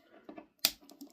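A part of an Xbox controller being reassembled snaps into place with one sharp, close plastic click, surrounded by faint handling taps.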